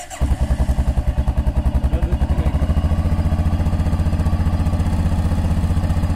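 Two motorcycles, a Yamaha MT09 and a KTM 1290R, idle close by with a deep, rapid, lumpy engine pulse that starts abruptly after a brief moment and holds a steady, throbbing rhythm.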